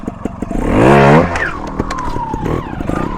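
A trials motorcycle engine revs up sharply to a loud peak as the clutch is released, then drops back to a lower, uneven idle with a few short throttle blips, close by.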